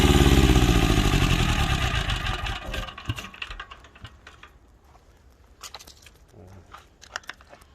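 Old Japanese Yanmar two-cylinder diesel engine, adapted for farm use, runs with a loud, steady close-up chug, then winds down and stops, leaving scattered small clicks and knocks as it falls quiet.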